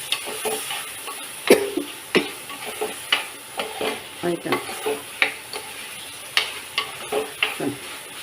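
Tomatoes and egg sauté in a pan, a steady sizzle broken by repeated stirring scrapes and taps of a spoon against the pan, close and clear with no talk.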